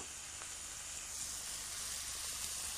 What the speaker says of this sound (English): you fry them just for 1 minute on one side